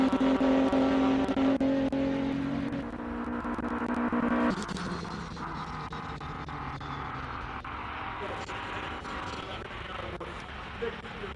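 A classic Ford Capri race car engine roars loudly as it drives past, its pitch dropping as it moves away into a fainter drone, with voices talking over it.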